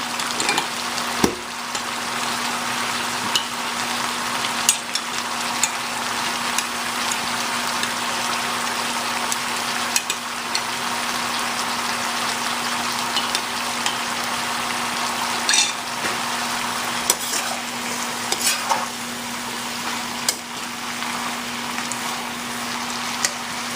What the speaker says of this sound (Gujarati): તો આપણે હજી એને સ્ટર ફ્રાય કરશું